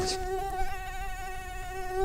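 A mosquito whines close to the microphone with a steady, high-pitched buzz and wavering harmonics that run unbroken for about two seconds, with no other sound over it.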